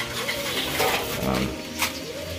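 Racing pigeons at their 4 o'clock feeding coo in a low, overlapping murmur, a dense flock close by with continuous soft rumbling calls and a busy background.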